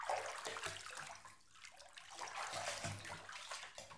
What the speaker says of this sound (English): Now let me lower you into the water.